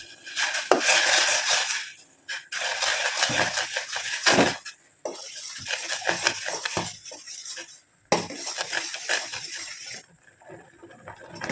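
A spoon scrapes and clinks against a pot while rice flour is stirred into boiling water, in bursts of metallic scraping separated by short pauses.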